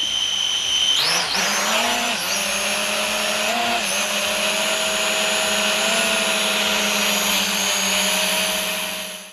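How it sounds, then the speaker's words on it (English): RuKo U11 GPS drone, recently soaked in water, spinning up for takeoff with a rising rotor whine, then hovering nearby in a loud steady high-pitched buzz that holds for several seconds before cutting off. "the first thing you should do every time you put a new drone up in the air is just let it hover for a little while"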